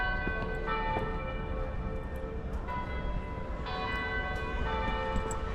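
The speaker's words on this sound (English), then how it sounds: "Sound of the church bells." Church bells in Oslo, Norway ring steadily and fairly loud, their tones overlapping in a continuous peal with fresh strikes every second or so.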